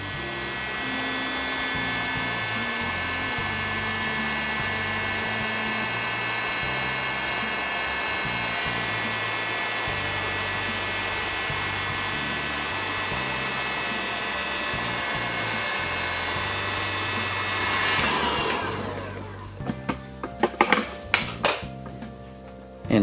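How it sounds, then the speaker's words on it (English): A heat gun blows a steady, loud whooshing roar for nearly twenty seconds while sealing heat shrink over joined O2 sensor harness wires, then cuts off, leaving a few close clicks and handling knocks. "we'll just get our heat gun and seal those over"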